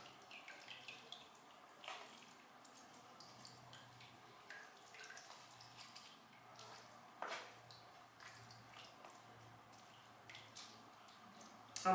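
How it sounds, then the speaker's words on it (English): Rosehip pulp pushed through a sieve by hand, giving soft wet squelches and drips with small scraping taps, faint and close, with no talking. "I'm just going to carry on doing this until all the rosehip is strained through this"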